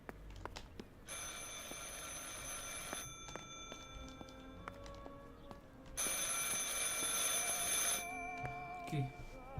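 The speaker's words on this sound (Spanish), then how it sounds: "I should pick up the phone but remain silent." Telephone ringing in the video game Martha Is Dead, two long bursts of bright, rattling bell rings separated by a pause, over a quiet background with faint ticks.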